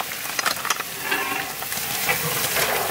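Meat drops into a pan of fried spice masala, setting off a dense hiss and sizzle with stirring scrapes and a few clatters early on, close and continuous, no voices.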